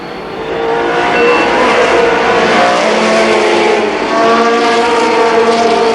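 Race cars at Columbus Motor Speedway in 1991, a pack of cars running together around the oval, produce a loud, steady engine roar that holds for the whole stretch with no talk.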